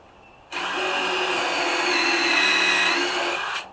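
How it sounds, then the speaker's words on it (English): A power drill with a countersink bit whirs steadily as it bores a small countersunk hole in a wooden board for deck screws on a backyard sawhorse shelf, a single continuous burst of about three seconds, close and loud. "Now I'm going to use this, it's a bit that does a little countersink hole, and I'm going to countersink."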